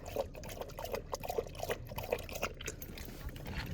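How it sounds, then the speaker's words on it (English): A tired dog lying down laps water in quick, quiet, rhythmic slurps that continue without a break. "She's drinking water laying down."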